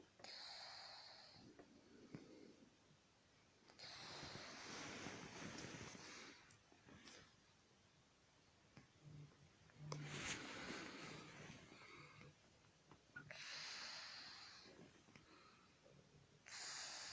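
A very old cat snoring in its sleep, with slow rhythmic breaths repeating every few seconds. Each breath is a soft, raspy snort, faint and close in a quiet room.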